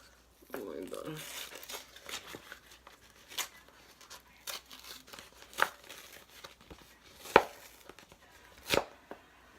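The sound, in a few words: tearing up a paper check by hand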